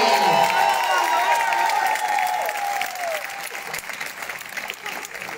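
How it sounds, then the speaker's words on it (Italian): An audience claps for a guitarist being introduced at a tribute concert, a full crowd applause that starts loud and gradually thins, with a lingering sustained musical tone and faint voices in the first seconds. "proseguiamo con gli applausi, forza"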